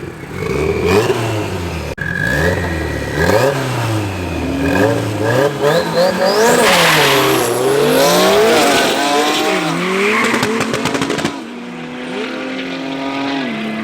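Rear-wheel-drive Class B race cars at Midvaal Raceway roar past, engines revving and shifting with rising and falling pitch, tires squealing briefly; loud, close and continuous, the noise drops sharply near the end as a car pulls away.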